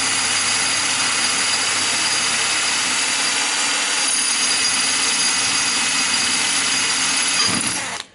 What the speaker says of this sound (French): je vais essayer de la percer